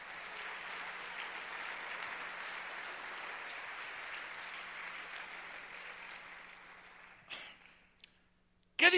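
A congregation gives a loud, sustained round of applause that fades out over several seconds, followed by a few isolated bumps and a sudden loud noise at the very end.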